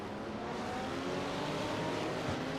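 GT3 race car engines, including a Burley V8 among European engines, drone steadily at the Red Bull Ring, a dense continuous roar of several cars at a moderate distance, faint and even with no talk.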